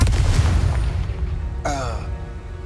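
A Confringo blasting spell going off in Hogwarts Legacy, a loud muffled boom that decays into a rumble, followed by a fainter tonal whoosh.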